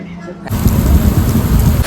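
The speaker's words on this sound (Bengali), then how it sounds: "প্রচন্ড জোরে বৃষ্টি হচ্ছে" A short muffled voice, then a loud, dense roar of heavy rain comes in and continues steadily, close and enveloping.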